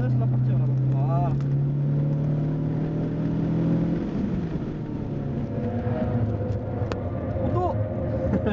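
Car being driven on a track during driving coaching with late braking, a steady engine drone that drops and shifts as the car slows, with a man coaching over it throughout.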